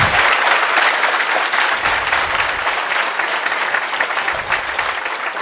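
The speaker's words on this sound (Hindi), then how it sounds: "एक बार वापिस जोर से तालियां।" Loud audience applause fills a hall during an RAS exam preparation talk, a dense, sustained burst of many hands clapping together from start to finish.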